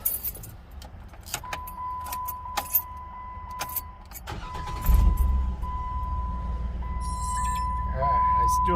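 Car keys jangle several times beside a Jeep Wrangler JK, with short metallic rattles near the start, followed by the engine turning over and settling into a steady idle, while someone talks intermittently.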